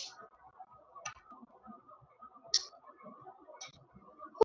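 A computer mouse clicks a handful of times at uneven intervals, short sharp taps spaced out against a quiet room background with faint murmuring.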